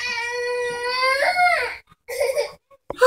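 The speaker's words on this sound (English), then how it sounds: "Teething baby" A teething baby cries close by in long wailing sobs that break into shorter whimpering bursts.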